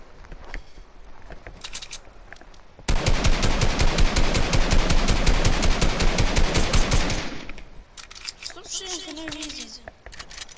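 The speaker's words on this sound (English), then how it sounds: "Because I'm shooting a brick wall." Video game gunfire striking a brick wall: a single loud, sustained burst of rapid shots that lasts about four and a half seconds between quieter stretches, with voices talking before and after.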